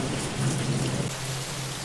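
Heavy rain pours down steadily in a dense, loud hiss during a bad rainstorm, with a low thunder rumble underneath that fades partway through; no one speaks.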